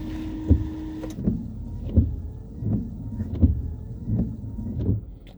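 Car windscreen washer and wipers in use: a brief whine of the washer pump, then a steady rhythm of about six wiper sweeps, each a soft motor hum with a thud at the end of the stroke.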